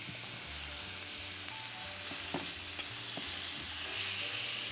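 A big beefsteak sizzles and fries in a pan with a steady, close hiss, broken now and then by faint pops and light clicks, with no talking.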